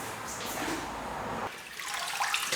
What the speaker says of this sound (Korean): 산초송이가 떨어지지 않게 살살 흔들어 세척해주십니다.